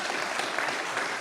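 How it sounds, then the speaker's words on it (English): An audience applauds a retired four-star admiral introduced as a panelist at a prairie talk event, with steady, dense clapping throughout and no talking. "That was sure to get an applause."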